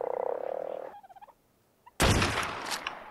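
A frog creature in Ark Survival Evolved gives a low, buzzing croak followed by a few short gobbling pulses, then a sudden loud burst of noisy impact or gunfire cuts in.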